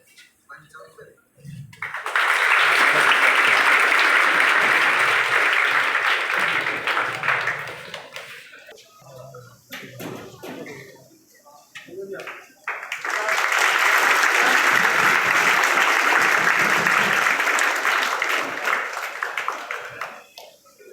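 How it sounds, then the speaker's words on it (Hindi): Crowd applause at an award ceremony at A. K. Gopalan Degree College comes in two long, loud bursts of dense clapping, separated by a quieter gap with scattered claps and murmurs. "तालियां"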